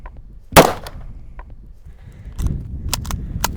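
A single sharp, loud gunshot cracks out, firing a Hornady Zombie Max 185 grain hollow point round, followed by a few fainter clicks and handling noises.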